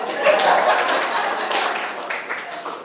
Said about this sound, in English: That's an applause one.